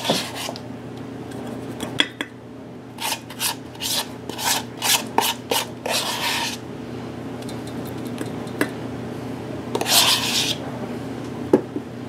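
A baking soda and vinegar paste is rubbed by hand onto stainless steel cookware to lift hard water spots, with close, gritty scrubbing strokes coming in short repeated bursts over a faint steady background hum.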